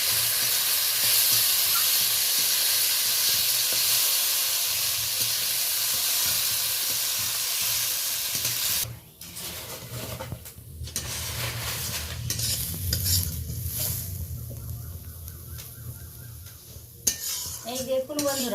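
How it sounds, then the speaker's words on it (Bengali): Lentils (dal) fry in a little oil in a pan, giving a steady loud sizzle at first. Metal spoon stirring and scraping clatters against the pot later on, with no one talking. "এখন ডালটা আমি অল্প তেল দিয়েছি, ভেজে নেব ডালটাকে"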